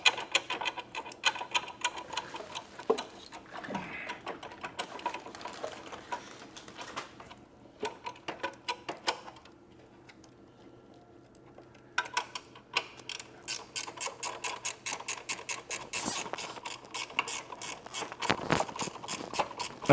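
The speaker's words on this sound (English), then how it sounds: "There's nothing better than a ratchet." A hand ratchet wrench works during horn installation on an Indian Pursuit motorcycle, producing quiet bursts of rapid close-up clicking separated by brief pauses, with no speech.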